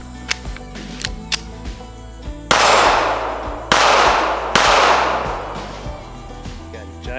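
A small 9mm backup pistol firing at a range, with three loud, sharp reports and long decaying echoes, mixed with lighter clicks and taps from handling the gun.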